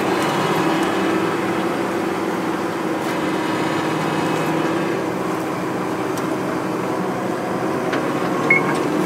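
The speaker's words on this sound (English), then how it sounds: "Hydraulic powered jack, I love it." Steady mechanical hum and whir of a hydraulic powered jack running beside a corn dryer in a muddy farm setting, constant and fairly loud without pauses.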